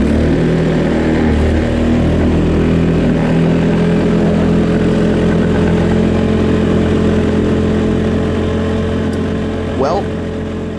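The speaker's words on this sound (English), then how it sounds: "The motor just cut out on us, couldn't get it running, and I had to pull over, get it refired." A race motorcycle engine, cut out mid-race and refired by the rider, runs loud and close at a rough, steady idle for several seconds, with a brief rising rev near the end.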